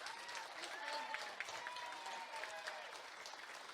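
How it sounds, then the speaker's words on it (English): Audience clapping for competitors at the Leitrim Boxty Festival, a moderately quiet, even patter of many hands with a few louder claps standing out, likely outdoors. "a round of applause for all the competitors"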